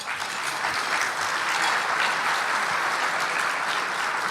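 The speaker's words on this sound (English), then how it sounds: "Give him one more round of applause" Audience at an industry luncheon and annual meeting breaks into sustained applause, a thick wash of many hands clapping at once, steady and fairly loud throughout.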